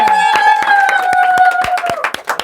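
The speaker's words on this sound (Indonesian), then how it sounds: "kita beri tepuk tangan dulu deh untuk Suryo." Audience members at an Indonesian idol talent show clap for a guest, distinct sharp claps in a fairly regular rhythm over a sustained musical tone, thinning out toward the end.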